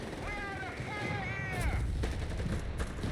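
Continuous battle noise from Company of Heroes 3, with machine-gun and mortar fire forming a dense rumble of bursts and booms under a brief tonal siren-like sweep, loud and sustained throughout.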